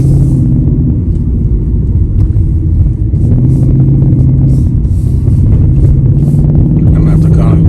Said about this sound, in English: Go ahead and put it in sport. Take off, kind of just normal takeoff again.